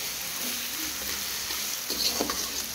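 Onions frying in a pan for biryani, a steady close sizzle with faint stirring scrapes and light clatter toward the end, no voices.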